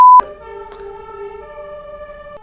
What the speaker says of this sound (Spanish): Tenemos por ahí un camión de bomberos, esperemos a que pase.